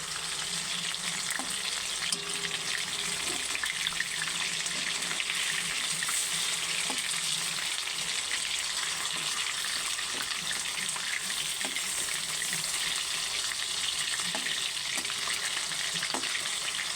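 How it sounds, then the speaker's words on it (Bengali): Chicken pieces frying in hot oil in a wok, a steady, close, continuous sizzle with occasional stirring clinks and no talking. "ভালো করে সবগুলো আবার ভালো করে ফ্রাই করে নেব"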